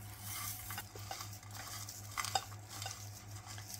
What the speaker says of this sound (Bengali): এখন আমি সুন্দর করে একটু মাখিয়ে নেব